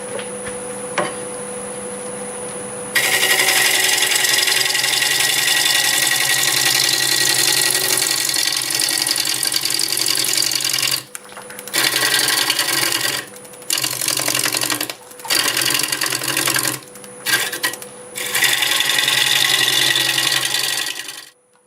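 Maple spinning on a wood lathe at 693 RPM, a steady loud rasping scrape of the cutting tool against the wood with a hum from the motor underneath, broken by short pauses as the tool lifts off and bites again.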